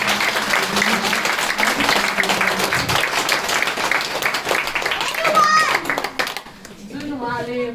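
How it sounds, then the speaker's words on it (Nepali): Audience applause at a talk, a dense stretch of clapping that fades out near the end, with children's and adults' voices mixed in underneath. "पनि एकचोटि जोरदार ताली।"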